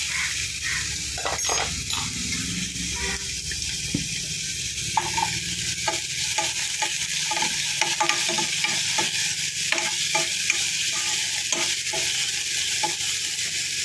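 Chopped banana flower stirred and sautéed in ghee for a sweet payasam, with constant close sizzling and frying and repeated scraping stirs throughout, no talking.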